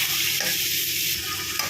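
Chopped onion, garlic and green chilli fry in hot oil with a steady, loud sizzle and crackle that continues throughout, while a spoon stirs the pan for a fenugreek-leaf stir-fry.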